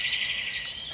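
Birds chirp and sing outdoors beside a garage, a steady wash of high twittering calls continuing for about a second with no talk.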